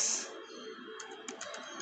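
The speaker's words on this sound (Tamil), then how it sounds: "நான் சொல்கிற கமாண்ட்ஸை வந்து டைப் பண்ணுங்க" Computer keyboard keys clicked in quick succession while entering React setup commands in VS Code, a close, steady run of light taps with no talking.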